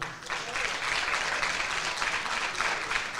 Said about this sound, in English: Big round of applause if you would